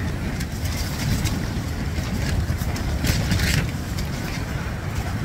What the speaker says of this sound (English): the wind is just whipping the tent everywhere